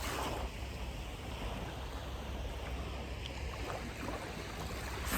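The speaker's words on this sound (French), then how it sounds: "Les vagues me bercent." Sea waves at Île-Rousse, Corsica, wash in a steady, soft rushing wash mixed with faint wind, low and distant-sounding, with no voices.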